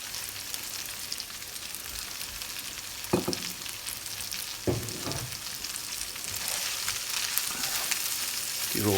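Spinach drops into a frying pan with bacon and onion and sizzles in a steady, close hiss, broken by a few louder bursts as it is stirred, with no talking.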